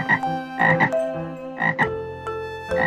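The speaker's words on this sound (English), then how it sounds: "Frog," A frog croaks repeatedly in short, loud bursts, often in pairs, spaced unevenly over a steady tonal background.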